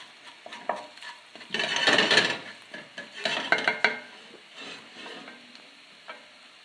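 Garlic frying in a pan at the start of an Indian dal, turning slightly brown: bursts of spoon scraping and stirring over a soft sizzle, loud in the middle and then trailing off into sparse clinks.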